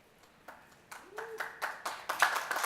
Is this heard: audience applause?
yes